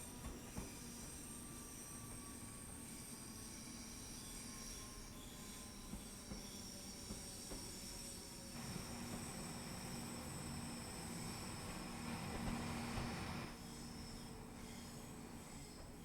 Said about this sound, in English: we're in a ScotRail train from the Cathcart Circle line, doing Birmingham Cross City